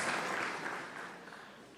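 A church congregation claps together in a brief, dense wash of applause that fades slightly toward the end.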